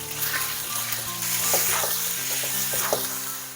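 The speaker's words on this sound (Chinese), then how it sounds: "油热咱们把牛肉放进来， 大火给它炒至断生" Beef slices stir-fry in hot oil in a wok over high heat, with a continuous crackling sizzle and occasional scraping of the spatula, close and without talk.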